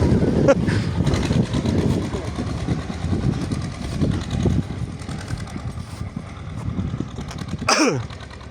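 A low, rumbling tractor engine chugs steadily throughout, close by, with a brief sharp noise near the end.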